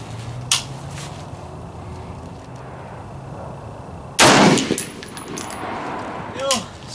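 A loud, sharp rifle shot from a Lencac M1A SOCOM at about four seconds, fired at a 200-yard steel target. The crack is followed by a short decaying tail and a faint distant ring. Quiet outdoor range ambience surrounds it.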